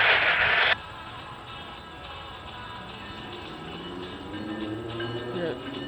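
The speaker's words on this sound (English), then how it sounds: "we got a GO train coming down the line" A GO commuter train with an old cab car approaches down the line, its rumble and rail noise building steadily, while a voice speaks over a radio.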